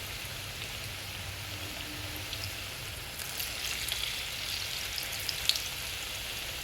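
Sweet potato snack frying in hot oil in a home kitchen, a faint, steady sizzle and bubbling crackle with light pops, quiet throughout and without speech.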